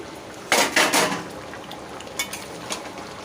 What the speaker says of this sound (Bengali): এবার আমি ঢাকটাটা খুলে দিচ্ছি